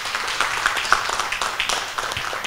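A live audience applauds a jury member being introduced at a Shopska salad world-record cooking event, steady dense clapping throughout with a voice faintly underneath.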